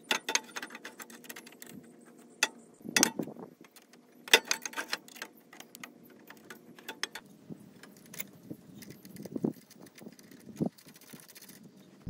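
Metal bolts click and clink against the exhaust mid pipe of a Can-Am X3 while it is being lined up, in a scattered series of sharp, close taps over a quiet background.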